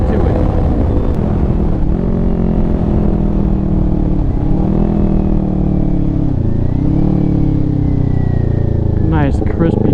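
A 600cc-plus motorcycle engine drones loudly at part throttle, rising and dipping with shifts, with wind rush and a voice talking over it.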